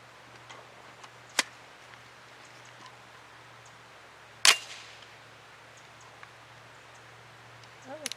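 A Grand Power Stribog pistol-caliber carbine fires Inceptor 65 grain pointy nose rounds: two sharp, loud single shots several seconds apart over a quiet background hum, the second louder with a short ringing tail, followed by faint clicks.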